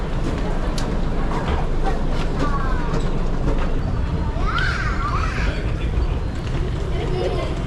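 A train rumbles along the rails with a continuous heavy roar and rhythmic clatter, while voices chatter in the background and high metallic squeals come and go.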